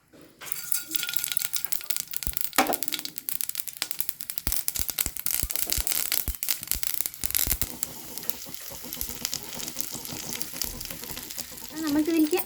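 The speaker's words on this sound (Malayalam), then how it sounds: "ഇതിലേക്ക് കടുകും ചുവന്ന മുളകും കറിവേപ്പിലയും കൂടി നമുക്ക് കടുക് പൊട്ടിച്ചെടുക്കാം" Mustard seeds, red chilies and curry leaves spluttering in a little oil, a dense crackling sizzle with many sharp pops and ticks, close and steady, with faint talk in the background.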